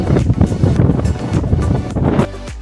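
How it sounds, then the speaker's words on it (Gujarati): Strong wind buffets the microphone in loud, continuous low rumbling gusts, with a roar like water or a boat engine underneath. "પવન બહુ છે"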